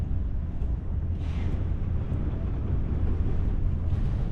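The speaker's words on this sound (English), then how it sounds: "You can see the winds blowing the cactuses." Strong desert wind gusts sweep across cactus-covered ground just outside El Paso, Texas, as a steady, loud roar of wind buffets the microphone throughout, with no voices.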